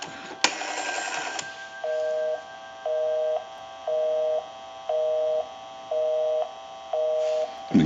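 An Automatic Electric rotary desk telephone, freshly repaired, gives a burst of noisy clicking as the handset line engages, then a steady repeating busy signal of evenly spaced tone pulses, clear and close with no speech.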